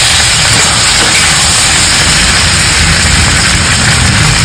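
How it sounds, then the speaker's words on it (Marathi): Tomatoes frying in hot oil in a home kitchen, a loud, close, continuous sizzling hiss that stays even throughout and cuts off abruptly at the end. "टोमॅटो टाकून घेते, टोमॅटो पण चांगलं आपल्याला तेलात परतायचं"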